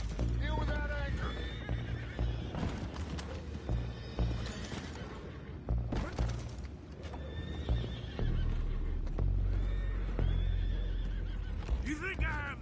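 Horses whinny and neigh repeatedly in Red Dead Redemption 2, with hooves clip-clopping underneath and characters talking over the loud, close animal calls.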